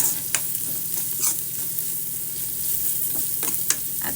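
Shredded cabbage frying in a pan on full flame for a paratha filling, producing a continuous close sizzle with sharp spoon clinks and scrapes as it is stirred, no voices.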